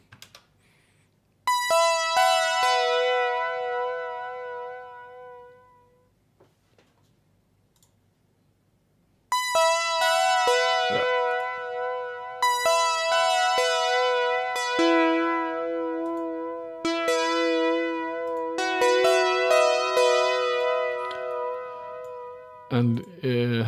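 An OP-X Pro synth emulating the Oberheim OB-X plays the Jupiter Back Perk preset: bright plucked arpeggiated notes with a wobbly, slightly unstable pitch, in two loud bursts separated by a few seconds of near silence.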